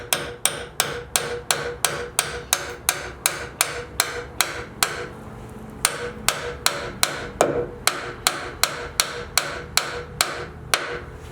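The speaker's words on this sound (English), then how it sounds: "I want to tap this in to make sure it doesn't try to pop out." A hammer taps a bushing into a TeraFlex HD shackle on a Jeep, with steady, evenly spaced metallic blows about two per second, a brief pause midway, then the rhythm resumes, close and sharp.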